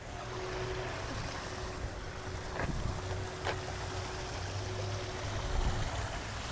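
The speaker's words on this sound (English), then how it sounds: "As you notice, the water is making considerable sound." Flowing water from a park water feature makes a steady, broad rushing hiss throughout, with faint wind noise and no talking.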